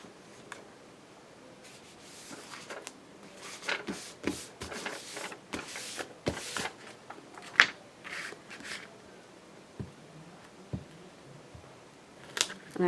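Scissors snip through thin, sticky junk-mail paper while it is folded and cut for an Easter bonnet journal, giving scattered crisp snips and rustling paper handling close by, with no talking.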